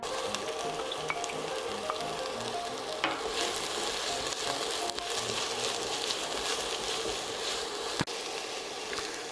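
Chopped onion and celery sauté in a pot as the base for a chicken broth, a steady close crackling sizzle with occasional stirring scrapes and a sharp clack near the end, no talking.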